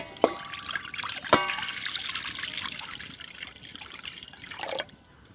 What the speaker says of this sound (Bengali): প্রথমে ফুলকপিটাকে সিদ্ধ করার জন্য কড়াইতে দিয়ে দেবো বেশ খানিকটা জল